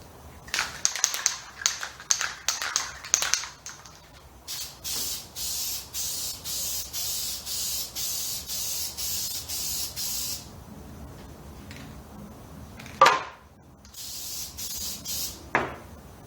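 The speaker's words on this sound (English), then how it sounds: "Okay, so I got some spray glue here for foam" Repeated short bursts of spray glue for foam hiss in quick succession, then longer sustained sprays, with a couple of sharp clicks between them, close and fairly quiet.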